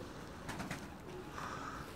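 Pigeons at a coop, soft cooing and a few wing-flutter bursts, faint and close, over a low steady background hiss.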